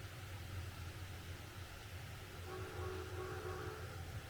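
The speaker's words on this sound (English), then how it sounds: "We got another train coming." A train rumbles past at a distance in Red Dead Redemption 2, low steady rolling noise with a faint tonal horn-like hum rising partway through, quiet overall.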